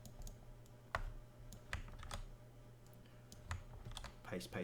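Someone types in quick irregular bursts on a computer keyboard, the keys clicking crisply and fairly close over a quiet room.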